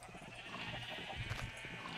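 Sheep in Minecraft bleat from their pens on a large farm, short nasal cries rising out of a steady bed of game noise, moderately close over about two seconds.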